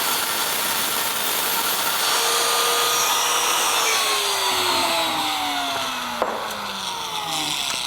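Die grinder working the edge of a sheet metal burger flipper in a shop, a steady loud high whine held continuously throughout with the pitch slowly dropping under load, close up and alone.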